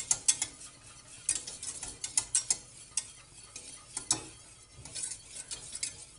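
White sauce being stirred briskly and roasted in a pan to keep it from burning, heard as a close, irregular run of sharp scraping and tapping clicks with a faint sizzle, no voices.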